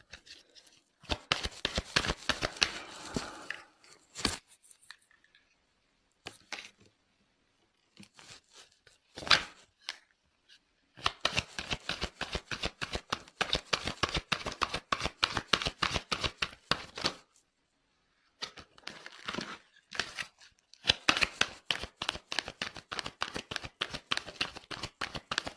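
Playing cards are shuffled and dealt in bursts of rapid riffling and snapping, close and crisp, separated by short quiet pauses, with no talking.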